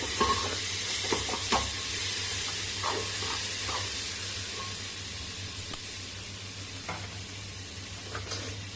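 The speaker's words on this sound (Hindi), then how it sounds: "अब ये हमारा प्याज गल गया है। यहीं पे हम मसाला को भी डाल देते हैं।" Softened onion and tomato sizzle in a pan as ground turmeric, coriander powder and other dry spices are stirred in for chole. A steady, close fry hiss runs throughout, broken by scraping stirs and light clinks, with no talking.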